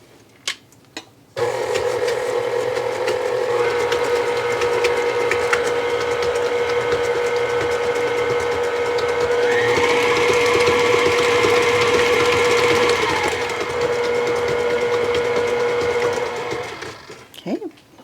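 An electric mixer whirs steadily and loudly up close while blending pumpkin cookie ingredients, the motor pitch rising partway through before it shuts off.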